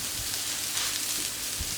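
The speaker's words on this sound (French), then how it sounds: "On va ajouter donc la tomate" Grilled vegetables sizzle steadily in a pan as roasted tomato goes in for a Catalan escalivada-style dish, a continuous close, even frying hiss with faint shifts.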